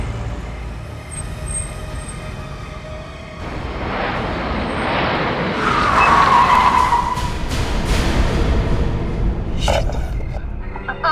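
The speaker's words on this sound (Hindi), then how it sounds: "आपने गाड़ी क्यों रोक दी?" A car on a road skids with a rising tyre squeal and rushing noise, then slows and comes to a stop after breaking down on its own; the skid is loud and close, with a low engine rumble beneath.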